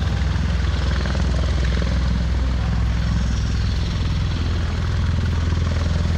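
Tiltrotor aircraft making a vertical takeoff at Miramar Airshow, its rotors and engines producing a loud, continuous thumping roar with dense low-frequency beating and no talk.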